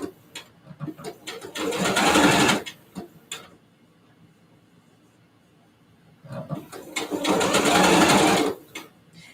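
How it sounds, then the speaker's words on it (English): A sewing machine zigzag-stitches a visible cap sleeve seam on an old T-shirt being turned into a bodysuit, two loud sustained bursts of rapid mechanical whirring separated by a quiet pause with faint handling clicks. "visible seam that I'm sewing right now on the cap sleeve"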